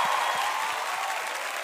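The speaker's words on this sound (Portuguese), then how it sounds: "Uma salva de palmas de pé." Standing ovation from a television studio audience after a karaoke performance: steady, dense clapping fills the whole stretch at an even level, close and continuous with no voices over it.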